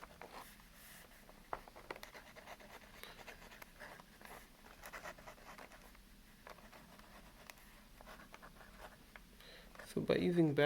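A Prasads fountain pen from India scratches and taps across calligraphy paper in short, faint strokes close up, with quiet pauses between them.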